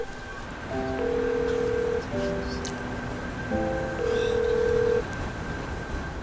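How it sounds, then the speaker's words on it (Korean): A mobile phone dials out with a short string of keypad tones, then steady electronic ringback tones sound in evenly spaced bursts over a faint background hiss; the call goes unanswered. "저장되어 있던 딸의 번호로 전화를 걸어봅니다"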